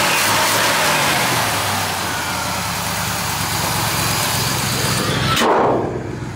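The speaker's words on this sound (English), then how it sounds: "Very nice running V8 motor." Steady V8 engine of a 1958 Chevrolet half-ton Stepside pickup running close by, a continuous low idling rumble that holds even throughout, then swells slightly near the end.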